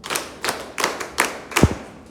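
Audience clapping for a participant at a school teaching presentation: about five sharp, evenly spaced claps landing together in a slow rhythm, close and fairly loud.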